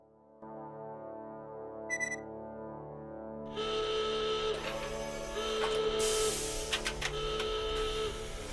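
A time machine in the video game Doc Apocalypse whirs into life with layered electronic tones and a short beep, swelling into a louder buzzing, whining hum with rhythmic pulses.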